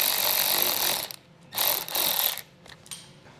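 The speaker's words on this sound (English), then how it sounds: "We'll start with our 8mm socket, and then we'll remove these screws that we have here." A socket ratchet with an 8mm socket clicks rapidly in two close bursts while removing screws from the lower fascia of a 2021 Chrysler Pacifica, then trails off into lighter ticks.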